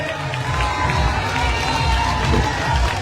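A large crowd at a late-night outdoor political rally in Uttarakhand claps and cheers to welcome a party's national president, a dense continuous roar of voices and applause with no pauses.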